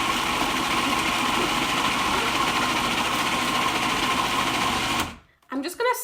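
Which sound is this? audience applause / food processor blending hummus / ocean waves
food processor blending hummus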